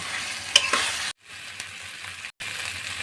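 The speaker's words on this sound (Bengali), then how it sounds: "এখন আমি দিয়ে দেবো ভাজা মাছগুলো দিয়ে আমি কষিয়ে নেব একদম মাংসের মতন করি" Fried fish being sautéed and stirred in spiced masala in a pan, a steady close sizzle with spatula scrapes near the start, briefly cut silent twice.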